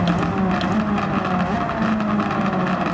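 A Ford race car engine in Gran Turismo 7 runs at steady high revs with simulated exhaust crackles, a loud continuous drone holding throughout without any talk.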